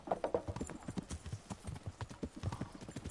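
Horse hooves clip-clop at a brisk, steady walking rhythm in the medieval video game Kingdom Come: Deliverance, fairly soft and close, with a snort or whinny near the start.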